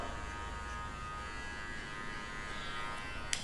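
An electric hair clipper on a low setting, fitted with a comb guard during a barbershop fade haircut, hums with a steady, even buzz at close range and no talking.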